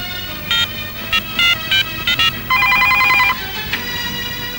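A telephone rings in short repeated electronic trill bursts, followed by a longer sustained ring, fairly loud and clear with no talking over it.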